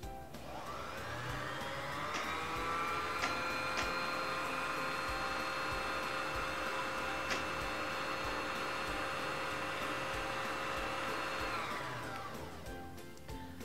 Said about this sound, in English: Now, wind it either until it is full or until you're satisfied with how much thread is on your bobbin.